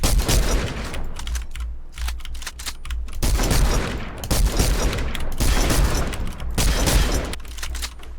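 Gunfire in the Fortnite video game, fired in quick pairs of shots with pauses between them, loud and close, with keyboard clatter mixed underneath.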